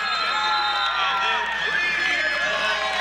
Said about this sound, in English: West Fargo's cheering here. You can hear them in the background.